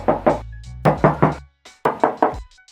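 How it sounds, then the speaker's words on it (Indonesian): Knuckle knocks on the front hood of a Suzuki Carry minivan: three quick groups of two to three sharp, hollow raps, close and loud with short pauses between. "Kita coba tes ketok."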